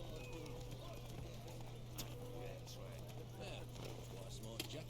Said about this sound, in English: man on a horse coming through